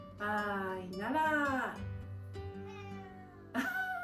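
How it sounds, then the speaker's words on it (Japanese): A house cat meows several times indoors, drawn-out pitch-bending calls close to the listener with short pauses between them, and no one talks over the sound. "いいところでニャーが入りました。"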